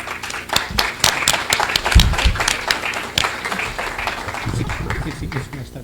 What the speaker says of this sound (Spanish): Recibámosla con fuertes aplausos